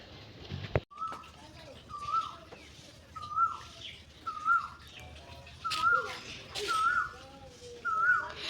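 An Asian koel calls repeatedly in a village, with rising whistled notes evenly spaced about once a second against soft outdoor background noise.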